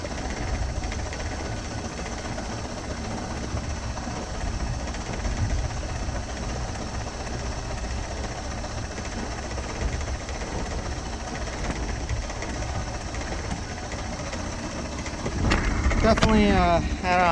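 Old engine on a cheap boat running steadily, its carburetor in need of cleaning. A continuous low rumble runs throughout and grows slightly louder near the end.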